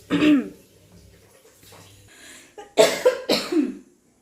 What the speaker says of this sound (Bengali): এত ঠান্ডা লেগেছে যে প্রচণ্ড কাশি হচ্ছে আর গলাটা জ্বলে জ্বলে যাচ্ছে